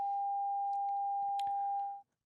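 A steady 800 hertz sine test tone, pure and unwavering, holds for about two seconds and then cuts off, with faint background noises beneath it.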